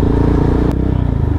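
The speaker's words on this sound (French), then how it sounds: "Wesh, c'est un scooter Ducati, frère!" A Ducati scooter passes close by with a loud, steady engine drone and some rattling clatter, its tone dropping slightly as it goes by over about a second and a half.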